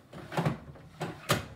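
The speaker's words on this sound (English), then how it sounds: "Integrated washing machine door" An integrated washing machine door in a kitchen being fitted is moved, giving a few soft knocks and clunks, one cluster early and two sharper thuds later, close by with no talking.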